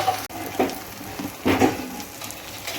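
Spices frying in a pan with oil for a Bengali prawn curry, a soft sizzle with a few brief louder stirring scrapes, close and steady, with no talking.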